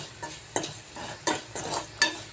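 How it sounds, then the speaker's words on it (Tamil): Beetroot stir-frying in a pan, a low steady sizzle punctuated by four sharp spatula scrapes and clinks at regular intervals, close and clear, with no speech. "நான் உருளைக்கிழங்கு வறுக்கிற மாதிரி தாங்க வறுக்கிறேன்"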